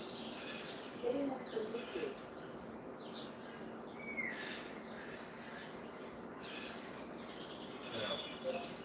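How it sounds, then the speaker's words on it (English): Recorded birdsong and crickets play through a front and rear home speaker setup, a steady bed of insect chirring with a few scattered bird chirps rising above it, fairly faint throughout. ""4K Birds," YouTube."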